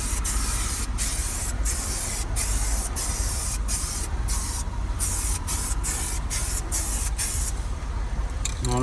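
Spray gun laying a light coat over a repaired scratch on a GMC Acadia rear hatch: a steady, close hissing spray in repeated passes, with short breaks between strokes and no talking.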